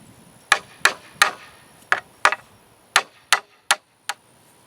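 A hammer drives rebar into the ground for a DIY greenhouse frame, nine crisp ringing blows landing in a quick, slightly uneven rhythm, close by with quiet gaps between them.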